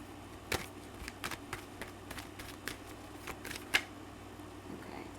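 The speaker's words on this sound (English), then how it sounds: "It's just poor shuffling on my part." Tarot cards shuffled a little clumsily during a reading, giving quiet, irregular riffling slaps and soft taps spread over several seconds against a faint, steady background hum, with no one speaking.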